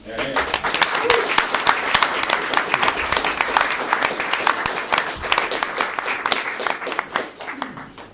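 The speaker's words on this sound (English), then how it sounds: "I think everybody involved with it deserves a round of applause" Lively audience applause after a play, dense crisp clapping from a roomful of people, close and loud, rising and settling over several seconds.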